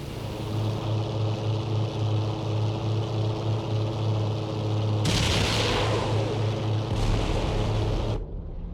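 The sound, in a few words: aircraft rockets firing in IL-2 Sturmovik video game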